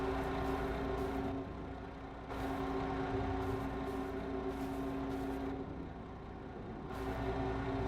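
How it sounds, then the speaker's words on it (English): A truck engine left idling in Farming Simulator 25 gives a steady low drone with a constant tonal hum, running unchanged the whole time with no talk over it. "Sounds like I left the engine on one of them."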